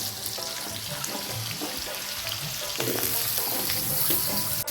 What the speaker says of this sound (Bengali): আলুটার সাথে যে পেঁয়াজটা লাল লাল করে ভাজা হয়ে যাবে